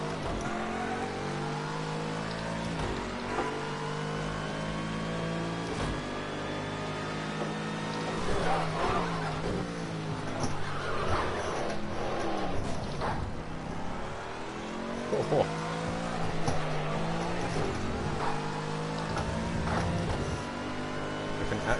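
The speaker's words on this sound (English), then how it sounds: "I can actually hear the car." A GT3 racing car engine in Project Cars 2 at Oulton Park revs and shifts through gears continuously, the pitch rising and falling over a steady mechanical drone, with a brief exclamation from a voice.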